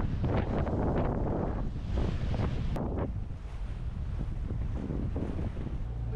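Wind buffets the microphone in strong gusts aboard a sailboat heading into wind and current, with a steady rushing roar of open water and the hull moving underneath.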